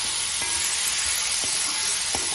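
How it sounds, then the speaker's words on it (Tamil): Pineapple pieces sautéing in hot oil in a pan for a Kerala-style moor kuzhambu, giving a steady, close sizzling hiss with a few soft stirring knocks. "பைனாப்பிளை கொஞ்சம் நல்லா வதக்கிட்டு"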